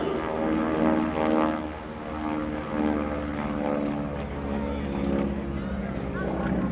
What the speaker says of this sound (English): high and from the left, here's Kevin Russo and his SNJ